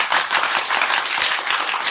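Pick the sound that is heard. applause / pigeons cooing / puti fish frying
applause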